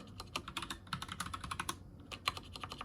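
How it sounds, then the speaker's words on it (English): Rapid keystrokes on a computer keyboard while setting up a Sun Ultra 5 workstation with Solaris 2.6, clattering in irregular bursts at close range with no talking. "typing again is hard behind the camera"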